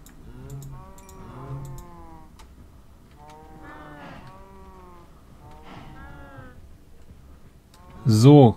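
Cows in the Minecraft video game give repeated drawn-out moos, several low calls spaced across the stretch at moderate loudness, ending with a sharp louder hit sound.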